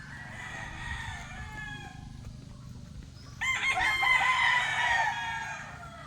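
A rooster crows loudly partway through, following quieter chicken clucking and bird calls over a steady outdoor background.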